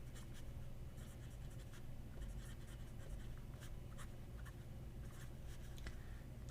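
A Canwrite fountain pen with a standard medium nib writes in red ink, giving soft, close scratching strokes that come in a quiet, uneven rhythm of short bursts and pauses, with no talking.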